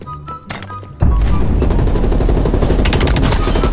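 Gunfire from a gun in Call of Duty: Cold War breaks out after a quiet second, a loud, sustained burst of rapid shots continuing to the end.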